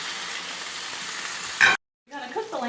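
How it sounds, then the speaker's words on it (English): Chops searing in hot olive oil in a pan, a loud continuous sizzle that flares briefly, cuts out for a moment, then resumes more softly. "I just put it in olive oil, and I'm gonna sear them until they're done"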